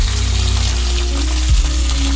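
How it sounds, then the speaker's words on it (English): Meat sears fat side down in hot oil in a cast iron pan, giving a steady, loud, close sizzle and crackle that runs without a break and with no voices. "So I'm going to put the fat side down. You can hear that starting to get a nice good sear already."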